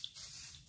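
A brief, faint hiss of spray paint misting lightly onto a custom sign, one soft burst lasting under a second.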